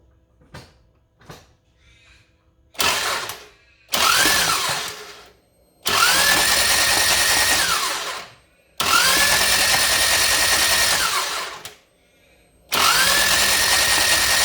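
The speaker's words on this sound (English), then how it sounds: "now I'm going to do the crank the engine" Starter cranking a Toyota 2AZ engine during a head gasket check, heard as four loud bursts of whirring churn of a few seconds each, separated by short pauses, with faint clicks before the first.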